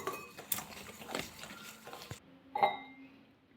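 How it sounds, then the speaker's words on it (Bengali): Batter being mixed with water in a bowl for coriander-leaf chops, with clinking utensil strokes against the bowl and soft stirring, a few sharper knocks near the middle and end, close and moderately quiet. "এবার অল্প অল্প জল দিয়ে আমি একটা ব্যাটার গুলে নেব।"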